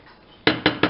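A serving plate for a chickpea dish is set out with three quick, sharp clinks of ceramic in close succession, close and clear against a quiet room.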